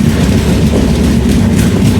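Tripura Sundari Express, a long-distance train from Ferozepur to Agartala, crossing close by on an Indian railway line, with a loud, steady low rumble of wagons and rhythmic wheel clatter throughout.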